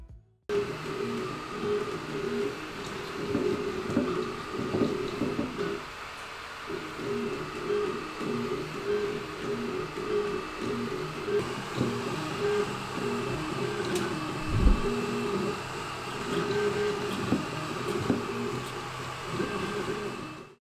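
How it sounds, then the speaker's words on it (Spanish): A Creality Ender 5 S1 3D printer runs fast while printing, giving a continuous whirring, buzzing hum with shifting stepper-motor whines and small clicks that persist steadily throughout. "Les dejo un breve video para que se puedan hacer una idea de cuánto se mueve esta máquina y cuánto ruido genera."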